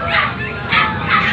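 Small dogs yip and bark in short bursts, three or so separate outbursts over a steady crowd murmur at a busy pet sale at the Grotto in San Jose del Monte, Bulacan, with people talking nearby.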